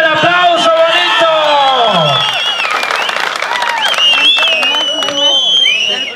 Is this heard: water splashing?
no